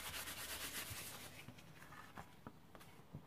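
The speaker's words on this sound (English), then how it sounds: "I'm just going to now wipe over it with a piece of kitchen towel just to wipe any excess off." Kitchen towel wiped over a handmade card to lift off excess, giving soft papery rubbing strokes that fade into a few light taps and scuffs toward the end, close and quiet with no talking.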